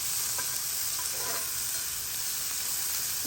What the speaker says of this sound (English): our onions have been cooking for about a minute. It's a hot pan, so they're already cooking pretty nicely.